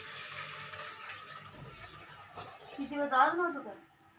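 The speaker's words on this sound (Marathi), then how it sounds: "इथे पाणी ओतून घेतो आपण बकेटमध्ये" Water pours steadily into a mop bucket, its rushing sound fading, and then a voice briefly speaks nearby.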